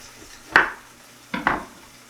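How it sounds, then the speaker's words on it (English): Knife cutting the top off a pepper on a kitchen board, two crisp chopping strikes about a second apart, the second doubled, close and fairly loud in an otherwise quiet kitchen. "So we're just gonna take the top off of this pepper."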